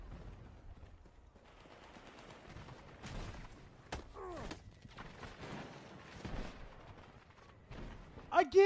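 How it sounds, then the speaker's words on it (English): Video game gunfire: scattered bursts and single shots with thuds and distant crackle, fairly faint overall, with louder shots near the end. "this dumbass running out in the fucking open with gunfire going crazy"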